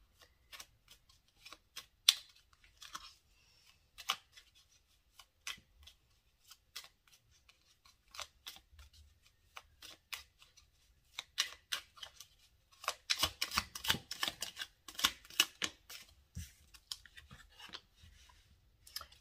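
Tarot cards are shuffled and drawn by hand, heard as quiet, irregular papery flicks and riffles close to the microphone, growing busier and denser in a quick flurry toward the end.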